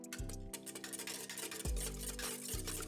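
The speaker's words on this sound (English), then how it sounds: "To that, add a 1/4 cup of avocado oil and 1 egg at room temperature. I'm going to whisk that together now." A whisk beats yeast, avocado oil and a room-temperature egg together for keto cinnamon roll dough, making quiet rhythmic stirring and scraping strokes against a bowl.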